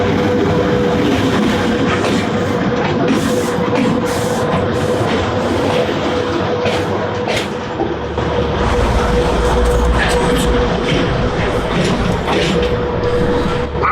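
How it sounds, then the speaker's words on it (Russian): A freight train in Kazakhstan rolls steadily and picks up speed, its loud continuous rumble and rattling wagons filling the scene, with a low engine drone swelling toward the end. "И поезд в этот момент поехал и уже набрал скорость."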